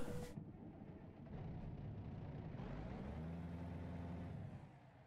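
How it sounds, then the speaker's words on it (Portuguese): A Volvo VNL truck engine in American Truck Simulator turns over and settles into a low, rumbling idle with a rising hum, fairly quiet, then drops away near the end. "Vamos ligar então o caminhão."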